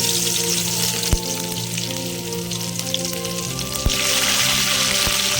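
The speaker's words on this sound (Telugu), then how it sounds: "ప్యాన్ పెట్టి ఆయిల్ వేసుకున్నానండి. అల్లం వెల్లుల్లి పేస్ట్" Ginger garlic paste fries in oil in a pan, a strong constant sizzle with a few sharp clicks and spatters, heard up close.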